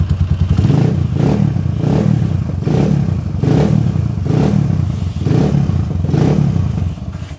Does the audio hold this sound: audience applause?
no